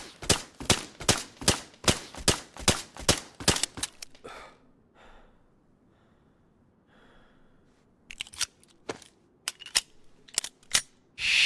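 Gunshots in DayZ on the Chernarus map: a rapid run of about a dozen sharp pistol cracks, a lull of quiet ambience, then another burst of scattered shots, loud and close.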